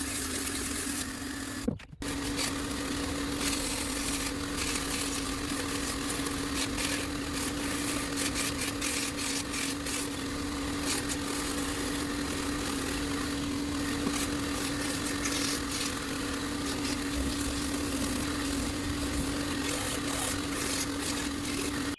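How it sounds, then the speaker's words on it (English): A belt grinder runs steadily on a 120-grit belt, sanding down an epoxy-filled cactus wood knife handle, a continuous near droning whir with a strong steady hum and a brief sharp knock near the start, no voices. "We're going to hit it on the grinder, probably start off with a 120 grit belt"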